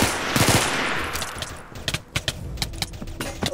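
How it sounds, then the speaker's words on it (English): Rapid machine gun fire rattles in a video game deathmatch, an early loud burst followed by sharp clustered shots, close and punchy. "Oh god, he's shooting us."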